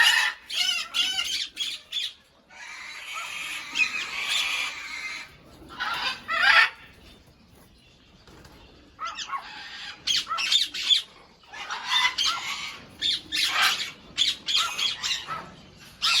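Large birds in an aviary squawk loudly in harsh, repeated bursts, with clusters of calls separated by brief quieter gaps, close and with no other sound competing.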